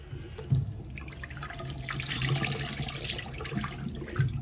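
Water runs steadily from a tap into a hotel bathroom sink, a continuous close hiss with no talking.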